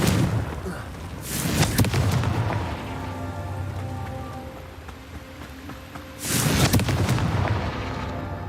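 Confringo blasting spells exploding in Hogwarts Legacy, two big bursts roughly five seconds apart over a constant rumbling game backdrop, loud and close.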